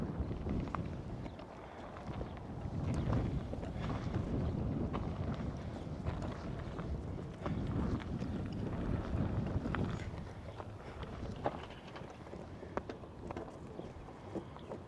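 Steady wind gusting and rumbling across the microphone for the whole stretch outside a motel in Tonopah, Nevada, with faint knocks and rattles underneath.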